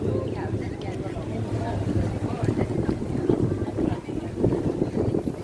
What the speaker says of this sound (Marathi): खूप वारा आहे पहा मंडळी